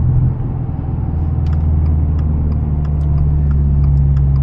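A 2022 Subaru WRX engine drones steadily from inside the cabin, a loud, constant low rumble with no clear rise in pitch, while faint ticks and rattles sound over it.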